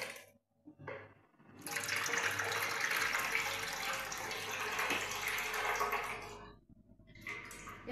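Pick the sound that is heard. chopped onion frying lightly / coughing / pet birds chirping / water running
water running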